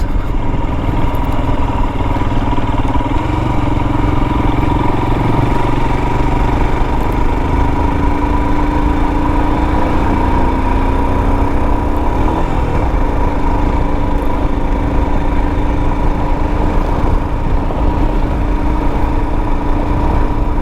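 A 2022 Royal Enfield Himalayan motorcycle climbs a Pennsylvania mountain road in fourth gear at about 40 mph and 3,200 rpm, its engine a loud, constant close-up drone with wind rush and no talking.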